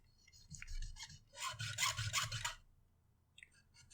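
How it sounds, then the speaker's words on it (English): High-pitched rhythmic squeaking and rasping as glue is rubbed off the motor of a Pioneer PP-215A flip clock, with bursts of scrubbing strokes, a louder run in the middle, then a few faint strokes. "Nice high-pitched squeaking."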